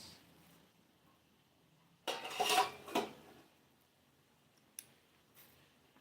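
A metal lid set onto a cooking pot of shrimp and sweet pumpkin, giving a quick clatter and scrape of cookware near the middle and one small click after, in an otherwise quiet kitchen.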